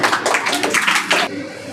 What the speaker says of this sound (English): Let's encourage her with a big round of applause.